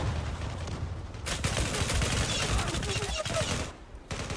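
Rapid automatic gunfire from the online shooter game Zula bursts loudly in dense fusillades, pausing briefly between volleys, with players' voices faintly mixed in.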